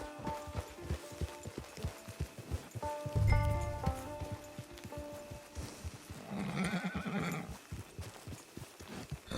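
A horse in Red Dead Redemption 2 clip-clops along with steady hoofbeats, then gives a loud whinny partway through, followed by snorting and continued hooves at close range.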